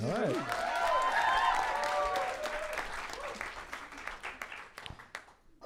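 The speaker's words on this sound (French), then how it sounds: "On l'applaudit, gang!" A small studio audience claps briefly for a guest while a voice sings out a drawn-out tone over the start, the applause thinning to scattered claps.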